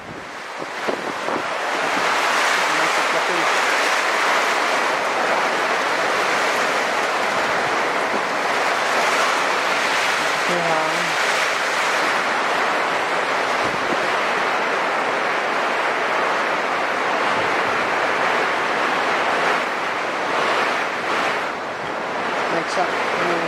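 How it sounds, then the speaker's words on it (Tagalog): Typhoon Vamco wind howls outside a house, a loud, continuous roaring rush of gusts that stays constant throughout, with a voice heard faintly beneath it. "Maririnig ko yung ihol ng hangin."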